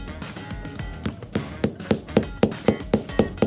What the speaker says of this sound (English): you use a hammer to hit this rod to fit them together